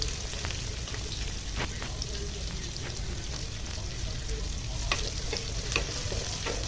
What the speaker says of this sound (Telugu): ఫస్ట్ ఆనియన్స్, పచ్చిమిర్చి వేసి బాగా ఫ్రై చేసుకోవాలి